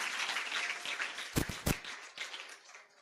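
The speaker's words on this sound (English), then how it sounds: "please let's clap for them once again" Conference audience applause fills the room at KEPRO's Annual Circular Packaging Conference as a dense, moderately faint patter of many hands, punctuated by a couple of sharp nearby claps before tapering off.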